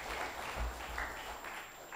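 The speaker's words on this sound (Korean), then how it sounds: "그래서 오늘 한 주간 동안 수고하신 우리 목사님을 위해서 감사의 박수를 쳐주시기 바랍니다" A church congregation applauds in thanks for their pastor at the close of a week-long revival meeting: a steady, fairly soft wash of clapping from many hands that holds evenly for two seconds without talk.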